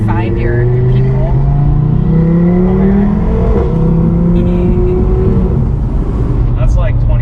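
A boosted 2022 Audi TT RS engine hums and revs steadily from inside the car, its pitch rising and falling with gear changes, while people talk over it.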